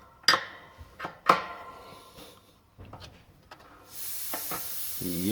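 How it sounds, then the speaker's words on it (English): Air leaks from a jammed compressor valve: a few sharp metallic clanks and knocks give way to a continuous close hiss of escaping air for the final second and a half. "That air leaking out of there is because that valve is not doing its job"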